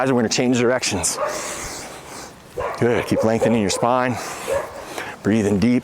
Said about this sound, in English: If you can hear those dogs in the background, they're the worst.